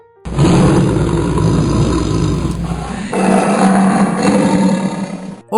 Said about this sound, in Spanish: ¡Oh no! ¡Es un tigre feroz!